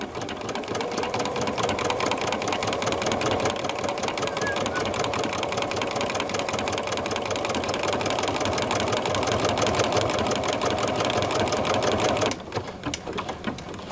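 A Bernina sewing machine stitches a cork book cover, a loud, steady rapid chatter of the needle running continuously for about twelve seconds before easing off, with no voices over it.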